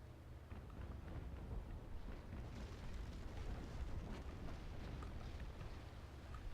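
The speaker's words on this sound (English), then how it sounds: "Looks like a fairly solid volley incoming from the Constitution." A broadside of cannon fire from a sailing warship in the naval combat game Naval Action, heard as a dense, continuous rumble of overlapping booms and bursts that rolls on steadily at a loud level, with no talk.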